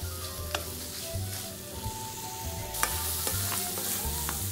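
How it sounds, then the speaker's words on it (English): Bacon heating in a pan sizzles with a steady crackling hiss, broken by occasional sharp pops and light scraping of a utensil, close and continuous without talk. "put our bacon in there, and all we're doing is just heating this up"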